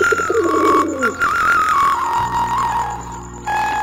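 Giribaz pigeons coo in a small loft, soft throaty calls close by with little else around them.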